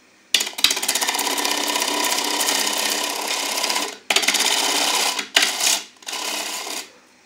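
A bowl gouge cuts the rim of a defective wooden bowl spinning on a woodturning lathe, a loud, steady tearing scrape that runs for several seconds, breaks off, then returns in a few shorter passes.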